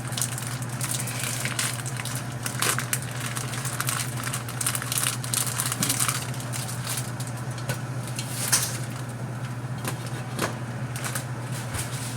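Dry spaghetti goes into a cooking pot of pasta sauce, giving a continuous crackly, rustling hiss with scattered sharp ticks, steady and close, over a low constant hum.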